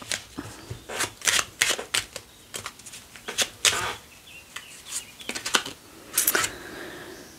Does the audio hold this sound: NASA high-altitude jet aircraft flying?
no